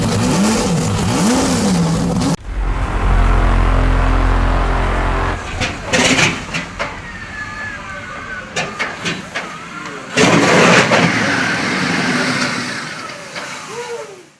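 A Ford GT40 race car engine fires up with a loud roar, then revs up and down in sharp bursts, settling into a rough idle before revving again.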